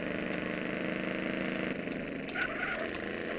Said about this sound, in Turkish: Bu arabanın sesi benim hoşuma çok gidiyor beyler.